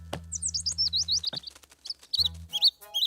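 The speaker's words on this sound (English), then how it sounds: "Oh, poor baby bird." A cartoon baby bird chirps in a quick, high, twittering run of tweets, clear and close, broken by a few brief thumps and soft tones.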